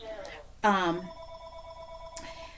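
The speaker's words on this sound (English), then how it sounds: "I apologize for my phone ringing" A mobile phone rings during a spoken talk on prayer, giving a sharp electronic ring tone that sustains for over a second with a second burst later, heard over a quiet room.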